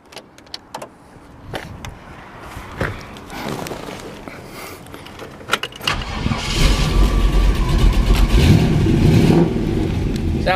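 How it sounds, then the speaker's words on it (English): A 1947 Chevrolet Fleetmaster hot rod with electronic ignition, shorty headers and dual exhaust cranks over and fires up, settling into a loud, rumbling idle close by after a few seconds of clicks and handling noises. "We'll go ahead and fire this one up for you real quick."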